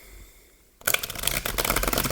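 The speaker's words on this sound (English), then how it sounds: "I think I'm going to just pull some Thoth cards for clarification." A deck of Thoth tarot cards is shuffled close up: after a quiet start, a sudden dense riffle of flapping, ruffling card noise runs on steadily to the end.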